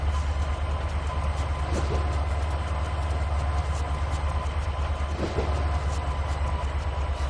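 Freight train cars get bumped forward and shunted in the Trainz 2019 simulator, a steady low rumble of rolling stock with a couple of faint clanks, continuous and moderately quiet, with no talking.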